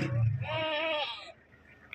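A goat on a farm gives one loud, close, wavering bleat lasting about a second, followed by quiet.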